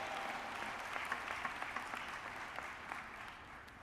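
A convention hall audience at the NAACP 105th Convention applauds Cornell William Brooks, the organization's newly elected president and CEO, with steady, fairly soft, distant-sounding clapping from a large crowd that holds even throughout.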